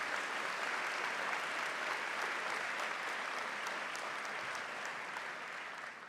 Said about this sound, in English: I really think that deserves applause to everyone involved